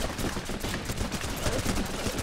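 Gunfire in the war game Running with Rifles while the player uses a shotgun, a dense, continuous crackle of overlapping shots and bursts, loud and steady throughout with no talk.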